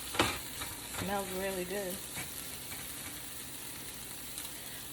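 Shrimp for wraps fry in a pan with a loud, continuous, close sizzle and a few stirring clicks, while a person briefly speaks over it near the start.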